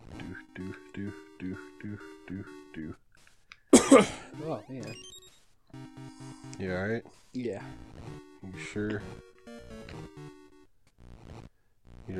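A single sharp cough bursts out over bouncy chiptune music from The Legend of Zelda: Oracle of Ages, with people chatting around it.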